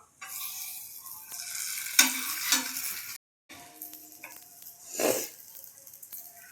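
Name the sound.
chapati sizzling with butter on a pan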